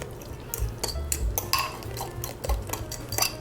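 A spatula stirs and scrapes pandesal dough in a bowl, mixing powdered milk and other dry ingredients into the wet ones with repeated wet slaps and scrapes against the sides.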